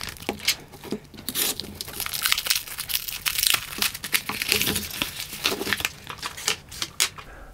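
Sealed black plastic parcel bag being torn open by hand, with continuous close crinkling, rustling and sharp ripping bursts throughout, loud and busy with no pauses.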